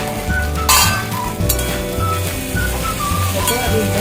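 Okra, or bhindi, frying in a pan for masala bhindi, with a soft steady sizzle under spatula clinks and scrapes as it is stirred, close and fairly loud.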